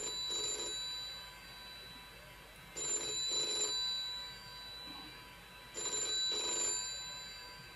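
An old telephone bell rings in three separate bursts, each a double trill of metallic ringing separated by pauses, fairly quiet with a low background hum.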